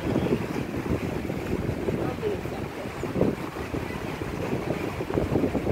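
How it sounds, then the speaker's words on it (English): Strong wind batters the microphone at Lake Tahoe while waves splash nearby, making a loud, continuous roar with no breaks. "It's very windy here. It's splashing up and it might even get us wet"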